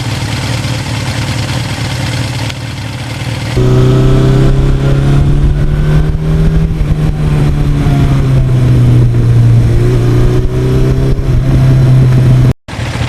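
A 1982 Suzuki GS1100E motorcycle on the move, its engine droning steadily with gentle rises and falls in pitch as it rides, wind and road noise constant throughout.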